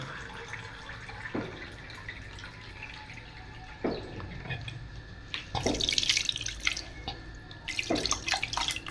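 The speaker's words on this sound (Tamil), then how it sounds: "இப்போ நம்ம இந்த மத்து வந்து வாஷ் பண்ண போகிறோம்" Water runs and splashes in uneven bursts as a wooden churner is rinsed under a tap, with scattered drips and clatter between the louder gushes.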